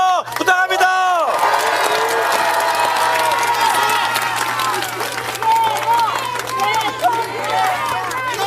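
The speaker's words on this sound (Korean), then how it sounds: "우리 이재명 대표를 위해서 큰 박수 한 번 더 부탁합니다" Crowd applause and cheering at an outdoor political rally in a Busan market, a sustained wash of clapping and voices that stays loud throughout, with a steady low hum underneath.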